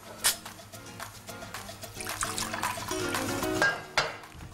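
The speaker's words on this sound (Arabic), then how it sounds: "هجيب بوله فاضيه احط فيها حبه ميه" Water runs and splashes into an empty bowl in a kitchen where a seafood hawawshi is being made, with clinks of dishes now and then.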